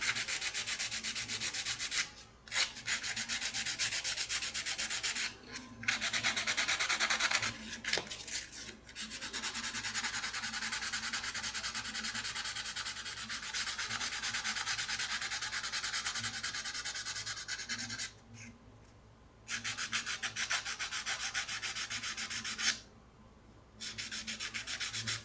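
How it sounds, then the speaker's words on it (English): Wire-wrapped earrings being sanded in steady, continuous rubbing strokes, close and fairly loud, with a few brief pauses between passes and no talking. "So I'll sand all of that while it's out here."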